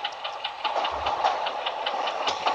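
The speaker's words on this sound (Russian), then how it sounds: "Вот это скоростной поезд," A train in the Train Traveller video game rattles past with steady, rhythmic clickety-clack beats over a continuous rumble, moderately loud and with no voices.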